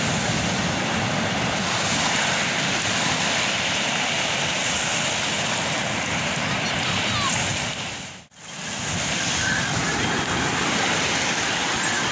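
Sea waves roll onto Puri beach at sunrise, a steady broadband roar of surf mixed with wind that stays loud and continuous, with only a brief dip just past the eight-second mark.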